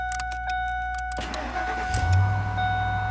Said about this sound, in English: Vehicle starts, you just let off of it.